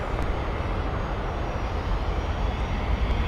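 A business jet taxis at Minneapolis–St. Paul airport, its engines giving a steady, continuous broadband roar at moderate distance with no gaps throughout.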